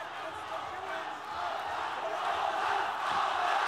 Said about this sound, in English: Crowd making rapturous noise here at the Tijuana Stadium.